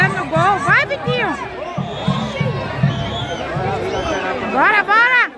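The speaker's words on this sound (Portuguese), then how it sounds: "Mas agora a torcida se agita, ó, chegando no gol." Football stadium crowd at a Campeonato Alagoano 2023 match between ASA and CSE stirring as an attack nears goal, with crowd noise under loud, excited nearby talk and shouting throughout.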